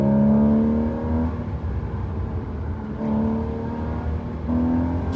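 A Porsche 981 Boxster with a non-turbo engine pulls hard on a canyon road, loud and close, rising in pitch with sharp shifts and repeated climbs in revs, with no talk.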